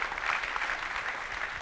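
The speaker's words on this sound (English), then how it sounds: "give a warm round of applause" A short burst of audience applause at a tech conference session, a steady, moderately loud patter of many hands clapping, heard alone for under two seconds.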